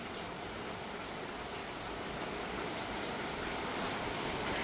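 Steady rain pours onto surfaces during an afternoon downpour, an even hiss of dense raindrops, close and unbroken, swelling slightly toward the end.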